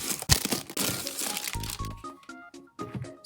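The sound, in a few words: opening a package of colored pencils, crinkling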